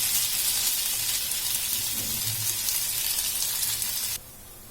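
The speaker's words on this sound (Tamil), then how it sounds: "இதை வந்து நம்ம சிம்ல வச்சுட்டே வந்து வேக வச்சுக்கலாம்." Potato snack sizzles steadily in a pan over a low flame, a continuous close frying hiss that cuts off sharply near the end.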